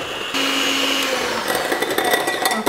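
Electric mixer beating cake batter with egg whites for a decorated Swiss roll: a loud, steady motor whir that turns to uneven rattling toward the end.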